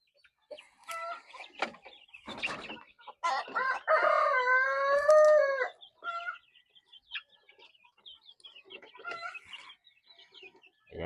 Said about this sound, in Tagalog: Darag native chicken. Isa sa pinakamasarap na native chicken sa Pilipinas.